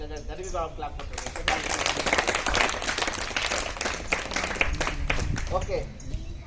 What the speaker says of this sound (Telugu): గరివి క్లాప్ కొట్టండి